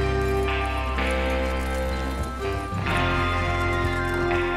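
Galloping hooves drum steadily under a layer of music and ambient game sound in Red Dead Redemption 2, with a horse's snort or whinny briefly rising near the middle.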